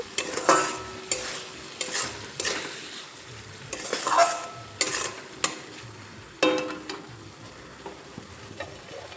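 A utensil scrapes and stirs salt into a fish curry masala with cauliflower and potato in a pan, soft repeated scraping strokes over a gentle sizzle, close and steady with no talking.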